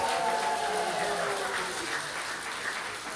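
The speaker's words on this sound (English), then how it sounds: "And applause for our choir one more time" A congregation applauds the choir at a Shabbat service marking Purim, a steady wash of clapping from a room full of people that holds for a few seconds and slowly thins toward the end.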